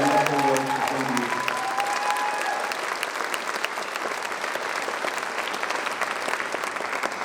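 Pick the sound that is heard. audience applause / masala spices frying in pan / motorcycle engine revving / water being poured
audience applause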